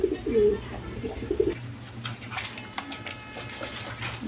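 Pair of big Kashmiri-coloured racer pigeons giving low, soft coos in short bursts close by during the first second and a half, then fading under faint rustling and background noise.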